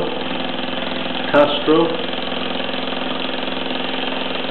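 A 1948 Mamod SE2 model steam engine, lubricated with standard engine oil, runs with a steady even mechanical chatter throughout, close by, while someone speaks over it.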